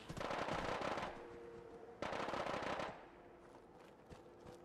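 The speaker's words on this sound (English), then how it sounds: "Now who's shooting?" Automatic gunfire in Fallout 4 rattles in two dense bursts of about a second each, then trails off into scattered faint shots and background game noise.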